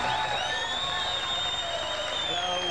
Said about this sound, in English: Applause, ladies and gentlemen.